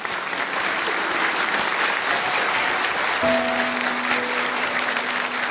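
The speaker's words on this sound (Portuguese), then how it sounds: "Aplauda o Senhor por essa obra" A church congregation applauds steadily during a Catholic service, a dense, even wash of many hands clapping throughout, with a faint sustained tone entering partway.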